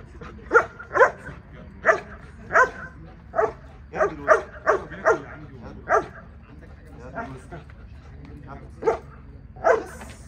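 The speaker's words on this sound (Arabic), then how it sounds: "الكلب ده عنده قد ايه يا كابتن احمد؟" A seven-and-a-half-month-old dog in guard training barks repeatedly in short, sharp bursts, about a dozen barks spread irregularly, fairly close, with faint background noise between them.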